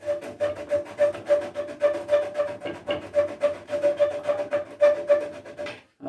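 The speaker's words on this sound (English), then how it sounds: "I was just trying to sand this one black edge on that one that time" Rhythmic back-and-forth rasping of sandpaper on the wood edge of a rocking chair part, steady close strokes about three per second that stop abruptly at the end.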